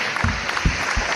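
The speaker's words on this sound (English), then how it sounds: "I'm going to clap for y'all because I appreciate everybody that's here." A podcast host clapping his hands before a live audience, three distinct claps spaced evenly over about a second, close and fairly loud.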